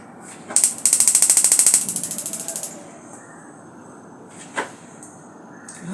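Gas stove being lit for cooking taro stems: a rapid run of sharp ratcheting igniter clicks, loud and close, followed by a soft hiss and one later click.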